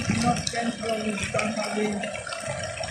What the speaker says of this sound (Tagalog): Malakas po yung tubig, guys.